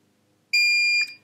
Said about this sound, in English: you hear a beep